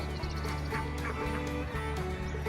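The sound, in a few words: ducks quacking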